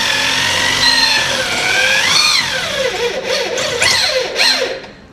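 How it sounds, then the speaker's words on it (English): A power drill bores a hole slowly under heavy pressure, a loud close whine that wavers and swoops in pitch as the load changes, trailing off at the end. "film me drilling a hole because I'm gonna show them how to do it"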